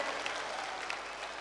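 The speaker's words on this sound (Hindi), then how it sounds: "जोरदार ताली बजा करके हम सब पूरा बागेश्वर परिवार स्वागत करें।" A large crowd at Bageshwar Dham claps to welcome India's Prime Minister, producing dense, steady, loud applause that fills the whole moment without a break, with no speech over it.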